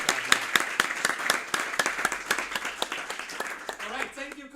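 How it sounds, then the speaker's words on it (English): Audience members at Volt Belgium's spring general assembly clap together, a crisp, fairly close burst of individual hand claps that thins toward the end as a voice begins speaking. "a big round of applause to everyone being here"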